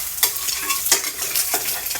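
An egg frying in a pan for breakfast, a steady loud sizzle and crackle with a few sharper spits and stirring scrapes, close up and without talking.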